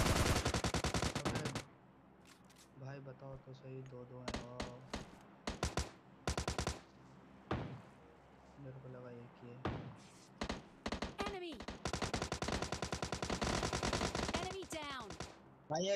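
Repeated bursts of gunfire from the battle royale video game PUBG Lite, close and loud, with rapid automatic volleys and single shots spread across the clip; a person talks between the bursts.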